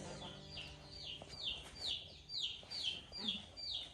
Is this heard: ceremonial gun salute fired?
no